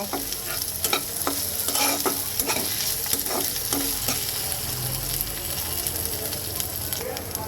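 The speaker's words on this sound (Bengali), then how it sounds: "এবার এটাকে সুন্দর করে একটু ভাজা ভাজা করব" Onion frying with ginger and garlic paste in a pan for eggplant dopeyaja, loud continuous sizzling and hiss with frequent rhythmic stirring scrapes of a spatula, close up and without talk.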